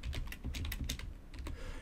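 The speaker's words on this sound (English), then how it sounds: "I stopped typing and it immediately converted it" Rapid, uneven keystrokes on a computer keyboard while a number is entered into a Windows 10 assistant, with close, crisp clicks in short bursts and no voices.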